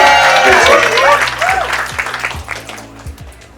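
Applause from the guests at a 60th birthday party, breaking out loud during the speeches and tapering off over a few seconds, mixed with cheering voices and background music.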